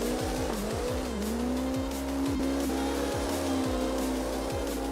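A drift car in CarX Drift Racing Online howls under steady engine revs while its tires squeal continuously through braking and transitions, loud and close, with repeated downshift-like pops underneath.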